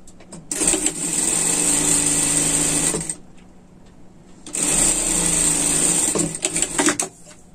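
Sewing machine stitching a pet sweater, two loud bursts of rapid whirring needle motion about three seconds each, separated by a quiet pause, close by.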